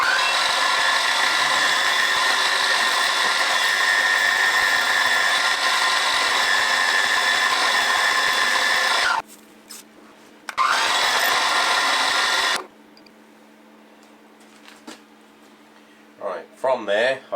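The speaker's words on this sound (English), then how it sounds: "I've got to drill a couple of holes now in there. This one just goes through the aluminium. This one will go through the centre steel as well." A power drill bores holes through aluminium and a centre steel section of an adjustable vice stop, a loud steady whirring drone in two bursts separated by a short pause, then quieter workshop hum.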